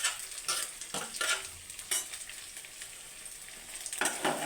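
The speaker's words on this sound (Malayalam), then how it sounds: "അതൊന്ന് ചൂടായി കഴിയുമ്പോൾ സവാള ഇട്ട്, 2 സവാള എടുത്തിരിക്കുന്നത്." Onions sautéing in hot oil with green chillies for a crab curry, a soft steady sizzle broken by several bursts of scraping as a spoon stirs the pan.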